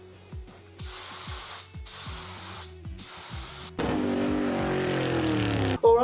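Aerosol spray paint on a car being converted from a London taxi to a pickup. Several short hissing bursts with brief gaps and rattling clicks between them, then one long continuous spray, close and fairly loud.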